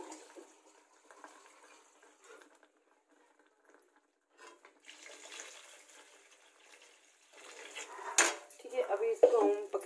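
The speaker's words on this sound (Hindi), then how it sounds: "अभी इसको पानी और डालूंगी मैं थोड़ा सा, क्योंकि बेसन जो है गाढ़ा हो जाएगा ना।" Water is poured into a gram flour and tomato mixture in a cooking pan, with metal clinks of a spoon against the pan and a splashing pour near the end, close and fairly soft.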